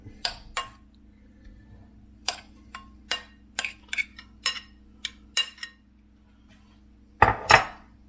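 Spatchcock chicken marinated with lime, coriander and chilli is set onto a metal tray, giving a run of sharp clinks and knocks close by, then a louder rattling clatter near the end; no one speaks.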